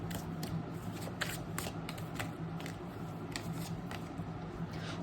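Playing cards being shuffled during a tarot-style reading, a steady soft papery riffle and flutter with repeated crisp bursts, close and continuous, no voices.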